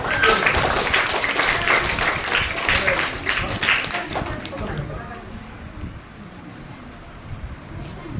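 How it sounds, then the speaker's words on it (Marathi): Applause from an audience at a school felicitation for a student, a dense burst of clapping that gradually thins and fades, with some talk underneath. "सर्वांनी जोरदार टाळ्या वाजवून त्याचं अभिनंदन करा."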